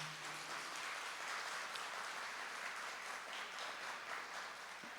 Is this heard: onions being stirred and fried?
no